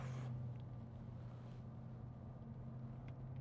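The 4.0L-class E500 V8 of a 2010 Mercedes-Benz E-Class Sport Cabriolet with G-Tronic gearbox drones in a deep, steady hum throughout, heard close and without talk.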